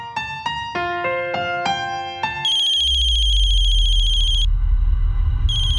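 A bright electronic phone ringtone plays a quick run of melodic beeps, then a sustained high tone over a low rumble, cutting out and restarting near the end.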